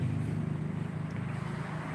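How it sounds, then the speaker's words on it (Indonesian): A motorcycle engine labouring on an uphill climb, sputtering and stumbling with a steady low rumble that holds at a constant loudness and sounds close by, with no talking over it. "Tapi motor berebet dulu."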